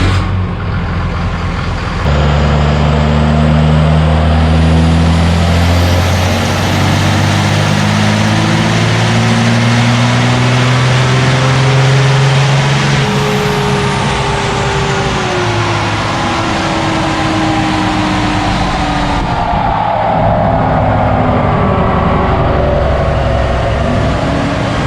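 A Cummins diesel truck engine with a cold air intake roars on a dyno, loud and sustained, pitch sweeping upward through a long pull before easing back near the end.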